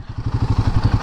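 Royal Enfield Himalayan 450 motorcycle engine running close by, a steady pulsing thump with a rhythmic low beat and a slight rise in intensity, no talking.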